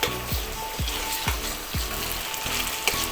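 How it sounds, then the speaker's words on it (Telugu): Onions and ginger paste frying in oil for korramenu fish curry, a loud, close sizzle with rhythmic stirring strokes of a spoon scraping the pan about twice a second. "ఉల్లిపాయలు వేగిపోయండి."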